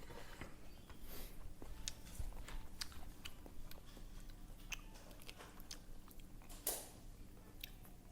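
Someone chews food close to the microphone with repeated soft crunching and wet mouth sounds in an irregular rhythm, with no talking.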